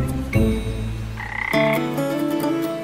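A red-eyed tree frog croaks close by, loud and clear with no voices: a sharp opening call, then drawn-out, buzzy tonal croaks whose pitch steps up and shifts over a few seconds.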